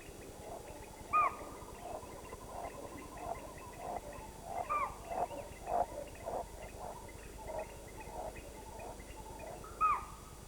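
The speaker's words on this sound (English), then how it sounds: "The spotted deer respond with a whistling alarm call." Sharp, high whistling alarm calls of spotted deer ring out repeatedly at irregular intervals over a quiet outdoor background, some louder and nearer, others fainter.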